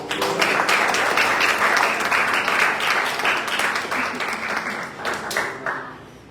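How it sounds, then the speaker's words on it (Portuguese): A church congregation applauding during a praise and worship service, sustained dense clapping that carries on steadily and then gradually tapers off toward the end. "Você que pode, aplaude ao Senhor"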